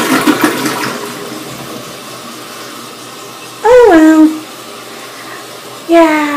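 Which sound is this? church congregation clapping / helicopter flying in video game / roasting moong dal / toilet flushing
toilet flushing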